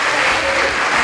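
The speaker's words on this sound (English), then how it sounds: "Please, a round of applause." A burst of applause from a small group, a dense, steady patter of clapping hands, loud and close, lasting about a second.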